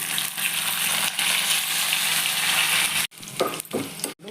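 Onions, mustard seeds, curry leaves and dried red chillies sizzle in hot oil as a tempering, a loud continuous frying hiss for about three seconds, then broken bursts of sizzling with brief gaps as the pan is stirred.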